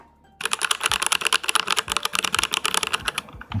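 Typing on an Arcade Kludge 84, a 75% mechanical keyboard: a rapid, uneven run of crisp clacky keystrokes, close and loud, with no talking.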